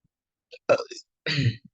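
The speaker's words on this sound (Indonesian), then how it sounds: "saya bersendawa" A short burp sounds up close in a quiet room, a couple of brief throaty bursts separated by a pause.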